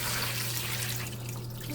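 Tap water runs steadily over beans being rinsed in a sink, a continuous close splashing wash with a low hum beneath it and no talking.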